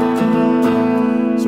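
A Rickenbacker 360 electric guitar in standard mode rings out with sustained chiming chords, three strummed attacks spaced about half a second apart, clear and close with no talking.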